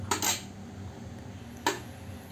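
Oil-greased bowls are set down one after another onto a flat plate, giving two quiet, sharp ceramic-metal clinks separated by a short pause in an otherwise hushed kitchen.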